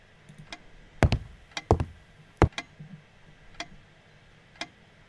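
Creaky wooden floor in the video game Serena: a handful of sharp, irregular knocking creaks underfoot, the loudest clustered in the first half, then fainter ones trailing off, with no talk.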